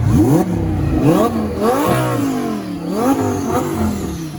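A Lamborghini Huracan STO's 5.2-liter naturally aspirated V10 revs hard several times in quick succession, pitch sweeping up toward 8,000 RPM and dropping back with each blip, loud and close.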